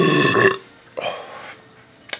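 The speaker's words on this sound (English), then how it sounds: "That burp smells like beer and buffalo chicken." A loud, gurgling burp after drinking Colt 45 malt liquor, lasting about half a second up close, followed by a softer second belch and a brief sharp sound near the end.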